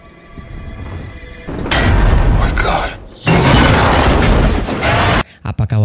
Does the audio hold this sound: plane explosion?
yes